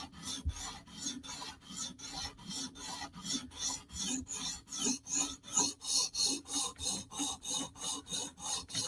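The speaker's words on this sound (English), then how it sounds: "now we're just working the edge so we know we're sharpening" A Mini Arius knife is sharpened on a whetstone while the edge is worked to raise a burr: a close, steady run of about eighteen evenly spaced rasping strokes, back and forth, with no talking.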